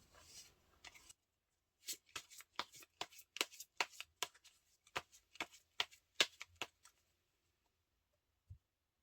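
Tarot cards shuffled and drawn: a brief riffle, a pause, then a quick run of crisp card flicks and snaps close by, ending in silence and one soft tap.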